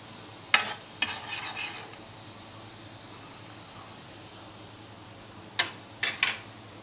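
Butter melting in a pan over a medium-low flame for a white sauce, giving a soft steady background sizzle with a few sharp clinks and stirring scrapes near the start and end.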